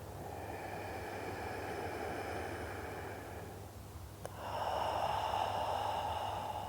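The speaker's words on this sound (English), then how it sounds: "2 more deep breaths." Slow, deep breaths drawn in and pushed out through the nose during a calming breathing exercise, each one a long airy whoosh over a steady low background hum.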